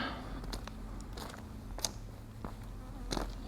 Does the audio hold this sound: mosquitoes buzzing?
yes